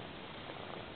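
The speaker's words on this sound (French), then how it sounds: "C'est un petit chaton des rues et déjà il est tout câline" A small stray kitten purrs softly and steadily up close in a brief, faint, continuous rumble, with no voices.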